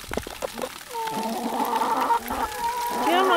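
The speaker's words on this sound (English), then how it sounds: "Looks like we've got 2 broody hens in the same nesting box." Two broody hens crowded into one nesting box cluck and give low, drawn-out grumbling calls close by, with a few sharp clucks at first before longer rising vocalizations continue to the end.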